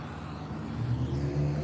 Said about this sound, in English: There's the engine sound right when he drives by me.